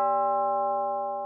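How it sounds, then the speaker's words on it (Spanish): A single resonant bell strikes the hour for a Christmas ghost tale, its harmonic tone ringing out clearly and decaying slowly across the whole moment, heard alone without any voices. "esperando que sonaran aquellas misteriosas campanas que anunciarían la llegada de los espíritus"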